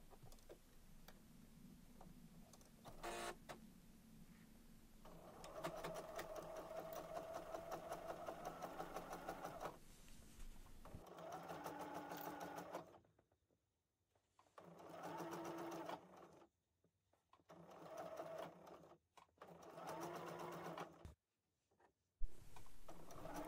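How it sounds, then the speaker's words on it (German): A sewing machine stitches piping onto fabric for a small gift pouch, its motor whirring in steady bursts that stop and restart several times, close and clear with no voices. "Nun wird es also aufeinander genäht"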